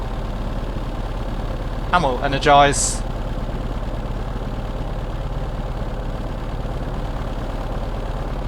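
A P-38 Lightning's left engine idling steadily after start in a flight simulator, a constant low drone throughout, with someone speaking briefly over it.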